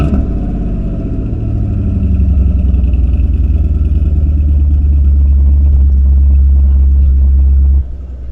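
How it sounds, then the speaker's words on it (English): A V8 engine in an MG ZT idles at tickover with a steady, deep, loud rumble that holds constant for about eight seconds before dropping slightly at the end. "That's what a V8 should. I love it on tickover, better than revved up."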